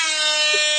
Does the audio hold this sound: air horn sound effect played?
yes